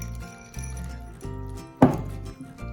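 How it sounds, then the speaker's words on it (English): Chocolate chunks poured into zucchini brownie batter give one brief clattering rattle near the middle, heard against a steady tonal background. "And the last step is to pour in the chocolate chunks."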